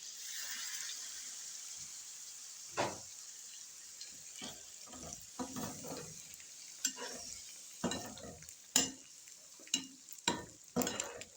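Water is poured into chicken masala in a pan for bhindi chicken, sending up a soft sizzle as a spoon stirs and scrapes in a series of irregular clinks and splashes.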